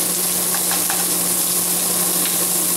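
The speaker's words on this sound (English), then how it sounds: "The onions here are caramelizing" Peppers and onions sizzle and caramelize in a hot pan, a loud, constant hiss and crackle with a few brief stirring clinks and scrapes, no talking over it.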